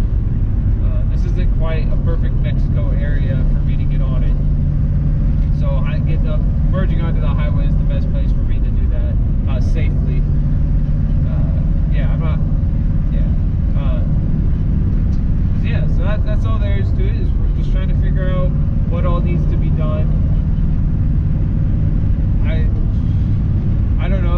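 A car cruising on a highway with a steady, loud engine and road drone throughout, and brief rattles and clicks on top.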